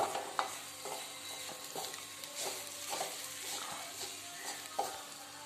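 Something frying slowly in a pan on a low flame, a soft continuous sizzle broken by regular scraping strokes of a spoon stirring it, close and steady with no talk.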